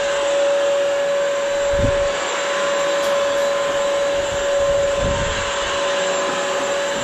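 A Bissell wet/dry floor sweeper runs with strong suction, giving a loud, steady whining drone with a constant high tone and brief rougher surges as it moves across the floor.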